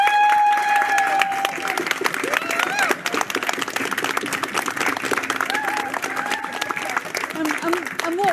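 Crowd out in the rain clapping and applauding NHS staff who have been feeding them every week, a dense, continuous patter of hands with voices and chatter mixed in throughout.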